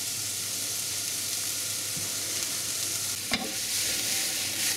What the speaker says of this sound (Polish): Cebula nam się smaży.